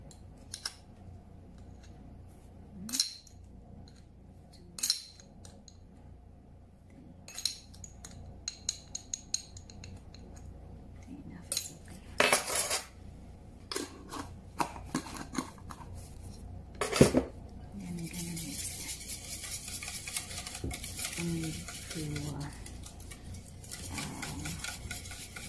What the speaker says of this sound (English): And then we're gonna mix all together.